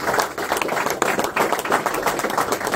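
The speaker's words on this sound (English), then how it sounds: "I reckon he deserves a round of applause" An audience at an Australian Open fishing tournament on the Clarence River gives a round of applause, steady close clapping from many hands with a bright, busy texture over nearly three seconds.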